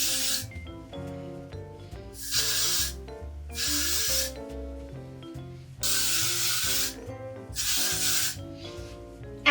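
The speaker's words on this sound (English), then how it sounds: "Then you want to spray the shit out of it." Hairspray hisses out in several long bursts, each a couple of seconds, separated by short pauses, with music playing underneath.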